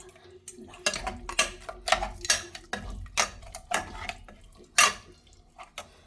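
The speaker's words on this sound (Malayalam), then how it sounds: "മട്ടണൊക്കെ നന്നായി ഇളക്കി ചേർക്കുക" A spoon scrapes and clanks against a pot in irregular bursts, stirring thick mutton curry, with several sharp metallic knocks between quieter scraping.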